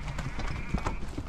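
Hooves of rescued Clydesdale horses clip-clop close by in an irregular run of soft thuds, with background noise and a possible faint voice.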